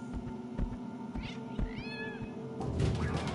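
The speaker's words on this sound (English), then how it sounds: "I hear a kitty." A cat meows in a video game, one clear rising-and-falling call midway, with soft thumps and game ambience around it and no talk.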